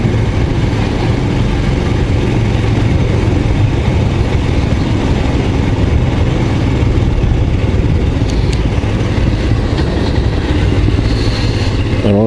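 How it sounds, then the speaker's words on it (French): Royal Enfield Scram 411 motorcycle engine on a country wine road, a steady close rumble as the bike cruises in third gear after slowing, continuous throughout with wind noise and no talk. "Incroyable ce moteur."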